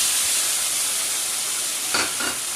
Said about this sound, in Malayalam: ഈ അവില് 2 പ്രാവശ്യം വറക്കണം